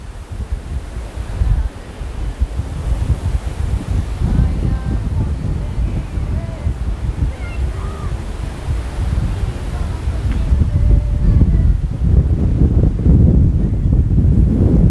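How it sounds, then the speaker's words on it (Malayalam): Strong wind gusts across a children's play area in Southchurch Park in the UK, roaring steadily and buffeting the microphone throughout. "തെളിഞ്ഞ അന്തരീക്ഷമാണെങ്കിലും ശക്തമായ കാറ്റടിക്കുന്നത്"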